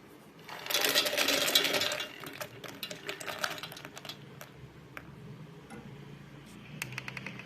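A kitchen mixer grinder powders roasted lotus seeds in a short loud burst of harsh whirring, then falls to scattered light ticks and rattles as the jar settles. No one speaks.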